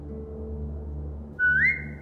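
A player whistles to a dog in The Walking Dead video game, a single bright rising whistle tone that steadies and holds for under a second over a low game background hum.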